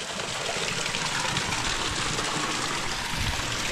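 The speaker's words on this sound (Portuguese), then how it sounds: "Abrir a entrada d'água." Water rushing steadily into a fish pond through its inlet, a continuous broadband gush that stays loud and close without a break, with no voices over it.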